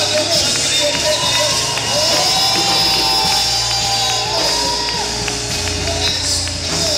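Church congregation cheering and shouting at a Swahili gospel service, a loud, steady crowd roar with whoops, ululation-like calls and babble, continuous throughout with music droning underneath.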